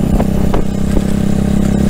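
A motorcycle engine drones steadily and loud at close range while riding on a highway, with a constant low hum and faint clatter and no talking.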